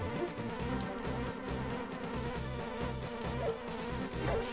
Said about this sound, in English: Right now I gotta deal with a bee that I can't actually hurt.